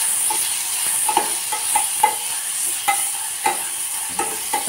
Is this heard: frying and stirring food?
yes